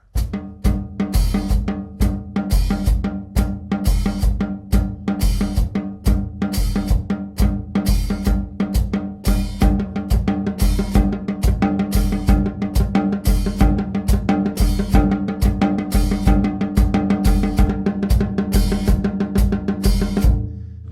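Drums play steadily on the offbeats at a quick tempo, with sharp hits evenly spaced and full, loud and close throughout.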